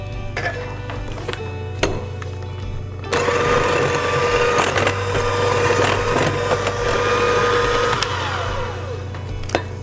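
An electric mixer whirs steadily while it beats butter and monkfruit sweetener in a bowl, with its beaters clicking against the sides. A low hum sits underneath and a voice talks briefly.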